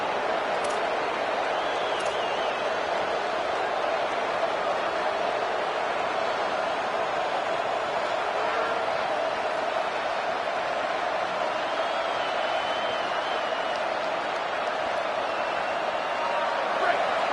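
A stadium crowd roars in a college football video game, a dense, loud, unbroken wash of cheering that fills the whole stretch, with faint whistles and commentary underneath.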